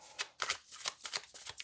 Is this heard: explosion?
no